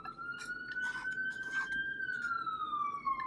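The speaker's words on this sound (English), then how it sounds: "And New York City graces us with some sirens." An emergency siren wails steadily across New York City, its tone slowly rising and falling, with faint street noise and traffic underneath.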